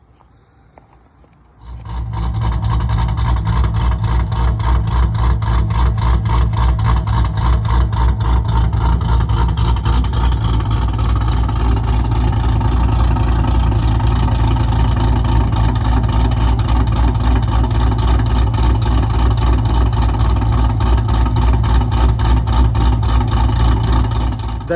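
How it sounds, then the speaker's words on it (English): A 2013 Camaro ZL1 supercharged LSA engine on E85 cranks and fires up from cold, then settles into a loud, lumpy, choppy idle that runs steadily for the rest of the clip, close to the microphone. "That's an E85 cold start."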